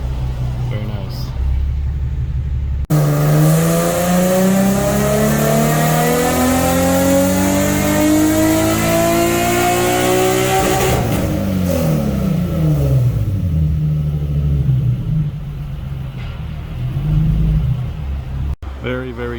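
A BMW 340i on a dyno revs hard, a long rising engine sweep climbing to a high-rpm peak around the middle and then falling back to a rumbling idle, loud and close throughout.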